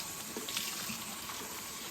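Tap water runs steadily from a kitchen faucet as a soapy washcloth is rinsed clean in the sink, a continuous close splashing hiss with no talk.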